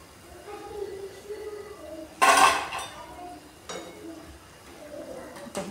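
Crisp spinach fritters being lifted out of the pan onto a plate, with a sharp metallic clatter of utensils and dishware midway, then softer clinks amid quiet background noise.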